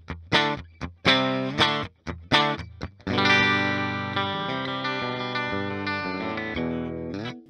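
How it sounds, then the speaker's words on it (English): Heavily distorted Reverend Reeves Gabrels signature electric guitar through an overdriven amp: several short choppy chords, then a long sustained ringing chord that slowly fades. "This is overdriving that amp ridiculously."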